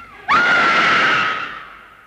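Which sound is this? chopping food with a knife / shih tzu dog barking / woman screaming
woman screaming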